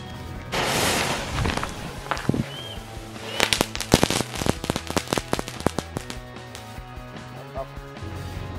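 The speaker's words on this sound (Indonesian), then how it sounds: "Dan ini kita coba 3 kretekan. Kita nyalakan guys." Kretekan firecrackers set off during an experiment burst in a rapid, irregular string of sharp, loud cracks, starting with a hissing fuse and dense pops before thinning out to scattered snaps.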